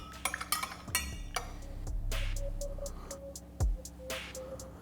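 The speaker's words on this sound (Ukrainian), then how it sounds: "Тепер не забуваємо перемішати, дамо трошки охолонити." A spoon stirs freshly brewed filter coffee, clinking lightly against a glass or ceramic vessel in scattered taps, quiet and close, over a faint background hum.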